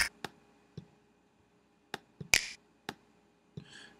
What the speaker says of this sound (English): I might add like some finger snaps.